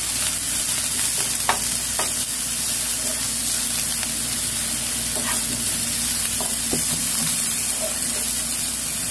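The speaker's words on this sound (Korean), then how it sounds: "파하고 마늘을 좀 볶아주세요." Chopped scallion and garlic stir-fry in cooking oil in a frying pan over a constant bright sizzle. Occasional taps and scrapes of stirring sound up close.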